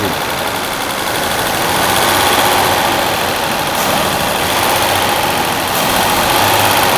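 A steady Mercedes-Benz W126 280SEL engine runs close by with a blocked fuel tank, its broadband rumble rising slightly in the middle as the throttle is pressed, but never climbing into a full rev.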